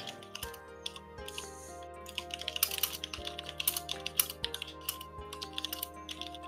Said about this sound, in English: we can hear your keys